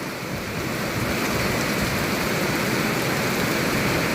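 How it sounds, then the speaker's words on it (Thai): Heavy rain pours down in a dense, constant hiss that fills the whole clip with no pauses. "มื่อนี้ก็ ฝนตกแรงหลายพี่น้อง"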